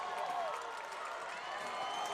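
High school football crowd at a Franklin vs Brentwood game, a steady broad roar of cheering and scattered clapping from the stands, moderately loud and continuous with faint voices mixed in.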